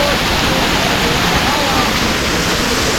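A mountain waterfall beside the Kedarnath Yatra trail gives a loud, close, continuous roar of rushing water with no breaks.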